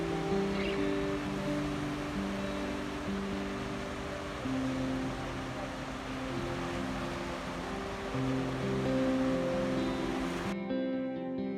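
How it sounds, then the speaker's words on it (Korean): Steady ocean surf washing onto the shore at Ganjeolgot in Ulsan, a continuous broad rushing wash with no distinct individual breaks, moderately loud and unbroken, cutting off abruptly near the end. "가만히 귀를 기울이다 보면 파도 소리가 들리고 바다 향기가 맡아져서 참 좋았던 곳입니다."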